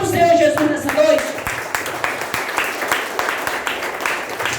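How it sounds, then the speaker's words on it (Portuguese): A church congregation applauds during an evening service, a dense stream of hand claps that stays steady and fairly loud throughout, mixed with raised voices at the start. "Aplauda o Senhor Jesus nessa noite."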